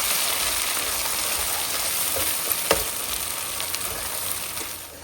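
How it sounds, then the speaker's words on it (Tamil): Ground paste and onion frying in hot sesame oil for a pickle, a steady loud sizzle and crackle throughout with a few sharper pops, no talking. "வெங்காயம் அப்படியே வதக்கலாம்."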